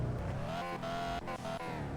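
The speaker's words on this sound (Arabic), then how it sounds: "العربية بتجري طيارة بس مفيهاش فرامل" A car with no brakes speeds hard in Car For Sale Simulator, its engine roaring loudly and steadily at high revs, with brief dips as it shifts and a tire-squeal edge, close and without talk.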